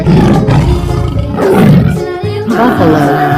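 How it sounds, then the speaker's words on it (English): A tiger in an animal crossing video game lets out a series of loud, close, throaty roars, three rumbling bursts with brief breaks between them and no voices. "Tiger."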